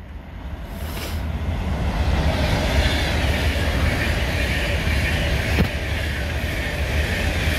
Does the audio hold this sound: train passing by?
yes